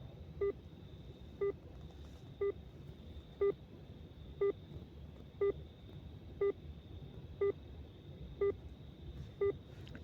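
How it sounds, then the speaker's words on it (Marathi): A phone placing an outgoing call gives ten evenly spaced, clear ringback beeps about one second apart, faint against a quiet background hiss. "Outgoing call. Line Deepak Kambal Kolhapur. Expand. Call button. Calling."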